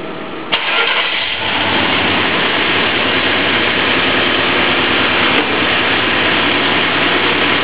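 A GM 5.7L V8 engine cranks and catches, then settles into a loud, steady idle that runs unbroken and close for several seconds with no voices.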